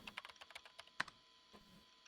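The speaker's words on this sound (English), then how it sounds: "Seated in my chair, I start typing." Computer keyboard typing in the visual novel Chaos;Head, a quick run of soft, close keystrokes followed by a few scattered taps, heard alone and quietly.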